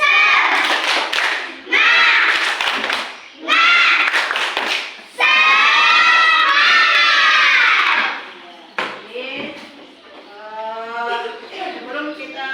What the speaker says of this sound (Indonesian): kita akan memulai dengan tepuk semangat